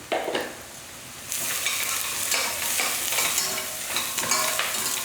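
Tomato gravy sautés in a pan, with a steady sizzle and the repeated scraping of a spoon stirring it, heard close and clear with no voices.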